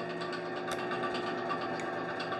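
Metal lathe turning a chamfer on a wheel spacer, a steady close mechanical whir with a dense, even hum and faint ticks of the cut running throughout, no voices.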